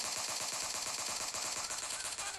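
Rapid automatic gunfire from a weapon in PUBG Lite, a steady stream of dense, rattling shots packed closely together and loud throughout with no pauses.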